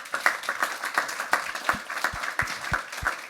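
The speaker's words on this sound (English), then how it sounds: "A little round of applause for our panel here, please." An audience at a live hospitality tech event gives a short round of applause for a panel, a moderate patter of clapping from a small crowd.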